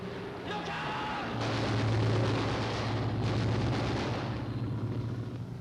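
Gunfire and heavy booming in a 1943 British war film, a loud sustained rumble of shooting and blasts with a low droning engine tone underneath, no speech over it.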